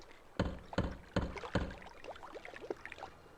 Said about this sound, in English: Now he'll be able to hear us knocking at the door because we've jammed the fan.